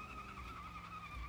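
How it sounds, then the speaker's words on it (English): A car in BeamNG.drive squeals its tires in a burnout, a sustained tonal whine with a low engine drone beneath, fairly quiet and unbroken. "we gotta try to do a burnout of this thing"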